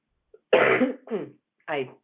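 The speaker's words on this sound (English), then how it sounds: "My cough." A harsh throat-clearing cough is followed by two shorter raspy vocal bursts, close and fairly loud, with silence between them.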